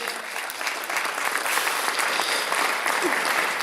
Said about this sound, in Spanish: Aplausos entonces.